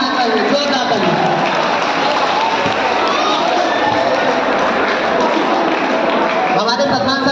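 Applause at a class 12 farewell party greets a teacher, a dense continuous clatter of many hands from a crowd that stays loud and even throughout, with voices mixed in.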